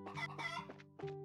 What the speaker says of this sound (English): There's the chickens.